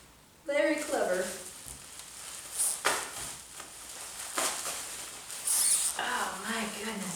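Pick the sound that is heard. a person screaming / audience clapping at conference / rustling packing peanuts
rustling packing peanuts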